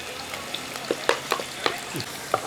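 Garlic, ginger and green chilies frying in oil for a Kerala sardine curry, stirred in a pan: a low sizzle under a handful of sharp scraping and tapping strokes of a spoon at an uneven pace, close by and without talk.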